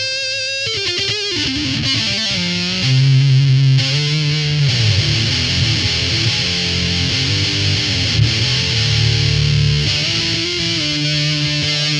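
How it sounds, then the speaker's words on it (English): A heavily distorted electric guitar through a distortion pedal into a Fender Bassman amp plays loud, thick chords and sustained notes, saturated and buzzing throughout. "this is the heavy distortion pedal that we just add into the Fender Bassman"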